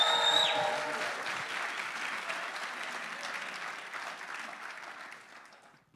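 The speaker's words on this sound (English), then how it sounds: "Would you guys help him and welcome and honor my good, dearest friend, Jackson King, this morning?" A church congregation claps to welcome a speaker, starting loud with a few whoops and then a sustained, even round of applause that slowly fades toward the end.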